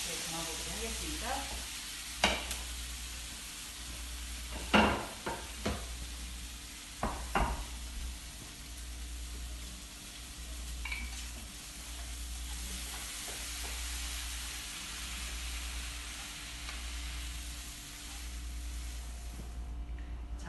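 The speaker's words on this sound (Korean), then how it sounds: "양념장을 나머지 양념장까지 넣어서 오징어 볶음을 볶아주시면" Spicy squid stir-fry sizzling steadily in a hot pan over high heat, with scraping and clanking bursts as it is stirred and tossed, continuous frying noise under no talk.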